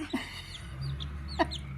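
A chicken clucks in two short bursts, one near the start and a louder one near the end, with a steady low hum in the background and no talking.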